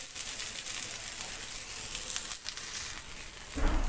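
Beetroot paratha frying in oil on a pan, giving a steady, soft sizzle that runs throughout, with a slight clatter near the end.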